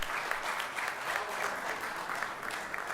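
An audience at a mushaira poetry gathering in Abu Dhabi breaks into dense, sustained applause, a steady wash of many hands clapping with no voices over it.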